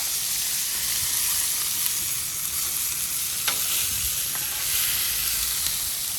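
New York strip steaks sear on a hot Blackstone griddle with a loud, steady sizzle and hiss throughout, broken by a few faint scrapes near the end.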